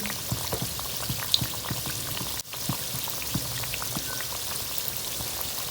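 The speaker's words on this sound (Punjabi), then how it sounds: "ਤੇਲ ਦੇ ਹੁਣ ਪੈਨਾਂ ਨੂੰ ਹੌਲੀ ਹੌਲੀ ਫਰਾਈ ਕਰਾਂਗੇ" Atta biscuits fry slowly in oil over gentle heat, giving a steady bed of fine crackling and scattered small pops. The sound is close and continuous with no voices, broken only by one brief dropout midway.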